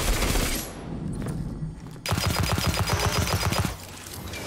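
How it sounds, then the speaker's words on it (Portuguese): Gun in the Destiny video game firing in rapid bursts, a dense rattling fusillade of close, loud shots that breaks off briefly and resumes over a continuous game soundscape. "Nossa, ele dá 15 tiros seguidos direto"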